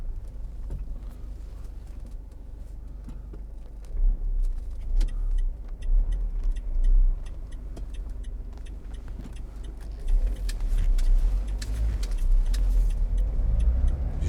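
Vauxhall Vivaro 2.0 CDTi Sportive panel van driving along, a steady low diesel engine and road rumble throughout with swells of acceleration and light rattles and clicks from the cabin, no talking.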